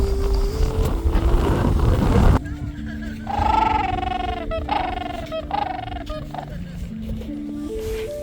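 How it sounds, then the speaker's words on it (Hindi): Penguins calling in Antarctica, a series of loud braying honks and harmonic squawks rising and falling in bursts, following a stretch of heavy low rumble and noise, with a low voice murmuring beneath. "ये पेंगुइन की आवाज़ थी।"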